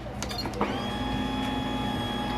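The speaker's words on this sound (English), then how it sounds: "I'm going to put the lid on, turn on the machine, and press start." A pasta machine starts up and churns the dry ingredients for homemade lasagna noodles in its loading chamber, giving a steady, even motor hum after a few clicks and bumps.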